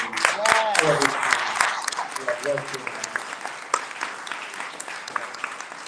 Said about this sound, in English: give a round of applause to all the employees